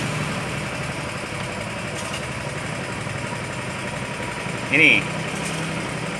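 Honda Vario 125 scooter engine idling after being restarted, a steady low mechanical hum up close, with a short spoken word and a brief high chirp near the end.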